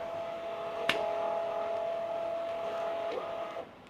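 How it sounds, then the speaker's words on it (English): A MUNBYN RealWriter 403B thermal label printer feeds and aligns its labels with a steady motorized whir of about three seconds, starting with a click and ending with a short mechanical clunk, close-up and without talking. "It's going to automatically move the labels and line it up so it's going to be ready to print your first label."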